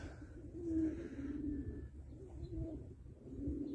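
Newly arrived tumbler pigeons coo softly in a coop on a hot day, with repeated low throaty calls over faint background noise and no talking.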